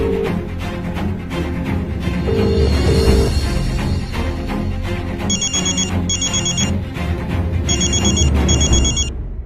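A telephone rings in repeated electronic bursts, two rings at a time with short pauses, sitting over loud background music in a Hindi drama scene.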